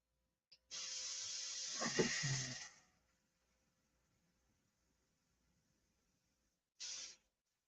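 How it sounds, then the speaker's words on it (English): An airbrush fires a loud, steady hissing spray for about two seconds, then cuts off into near silence before a second short burst as it is cleaned out. "Gotta get this airbrush cleaned out"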